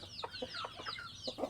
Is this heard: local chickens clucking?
yes